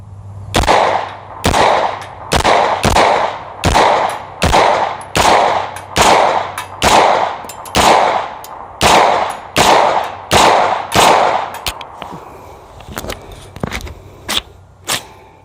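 A Glock pistol fitted with cheap aftermarket magazines fires a long string of loud, evenly spaced shots, each with a ringing tail, before the pace breaks up into a few scattered final shots and clatter.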